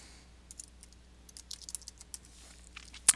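Keys tapped on a computer keyboard while entering a file name, a run of quiet, irregular clicks spread across a few seconds, ending in one sharper, louder click.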